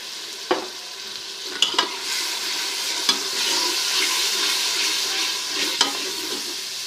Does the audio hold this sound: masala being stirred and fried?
yes